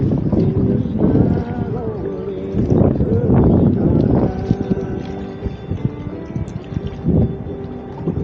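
Wind buffeting the microphone on a kayak trip on the Tennessee River, gusty low rumbling that swells and fades under someone talking.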